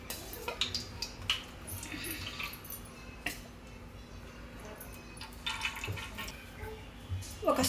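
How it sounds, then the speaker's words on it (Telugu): Cooking oil, three spoonfuls, is poured into a pan for Andhra-style masala rice, making soft liquid trickles and small drips with a few light clinks of metal in between. "ఆయిల్ పోసుకో."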